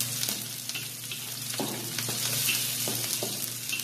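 Garlic frying in a pan for chicken wing tinola, a steady close sizzle with occasional scrapes and taps of a utensil stirring, and no voices.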